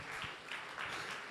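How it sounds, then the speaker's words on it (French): An audience applauds after a startup pitch, a steady patter of many hands clapping at moderate volume from across the room, brief and continuous. "On peut l'applaudir."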